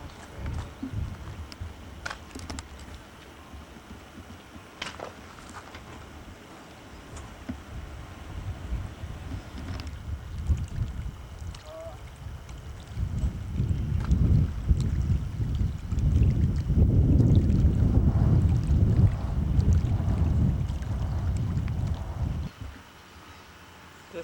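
Wind buffets the microphone at a campground at Meziadin, a low rumbling roar that starts moderate and swells louder toward the end before cutting off, with no voices.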